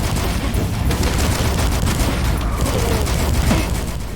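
Shotguns and other guns fire in the retro-style shooter Dusk as a dense, continuous barrage of loud blasts that runs the whole stretch without pause.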